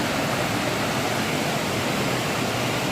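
Steady, loud rushing water fills the whole clip, a dense broadband roar like a nearby waterfall, with no voices.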